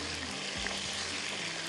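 Tomato frying with garlic in a tarka on a lit stove, an even, dense sizzle held close and steady throughout, with no talk.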